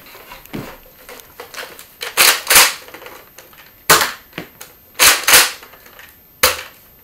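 A toy Nerf gun fires about eight sharp, loud snapping shots, some in quick pairs and others spaced apart, with short quiet gaps between them and no talking.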